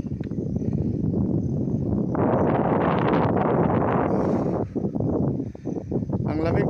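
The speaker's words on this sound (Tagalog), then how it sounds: "Ang lamig ng hangin" Steady, heavy cold wind roars and buffets the microphone throughout at an adventure park in Sudipen, La Union, loud and close, with a voice talking faintly underneath.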